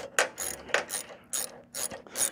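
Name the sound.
ratchet with half inch socket tightening nylock nut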